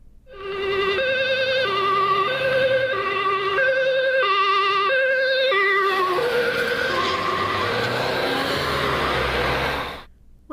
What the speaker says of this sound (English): what happens to the siren as an ambulance drives by?